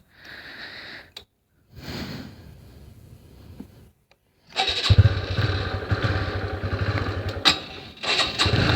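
Motorcycle engine starting and cutting out early in the morning: short bursts of engine noise with gaps of silence, then a longer rough idle with revs rising and falling, close by.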